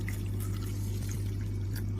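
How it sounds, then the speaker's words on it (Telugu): Water poured into a pot of dal during home cooking, a steady, soft liquid pour and trickle running continuously at close range over a low background hum. "ఇప్పుడు వాటర్ వేయండి."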